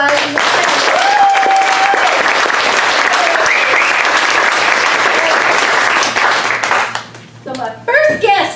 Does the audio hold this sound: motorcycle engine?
no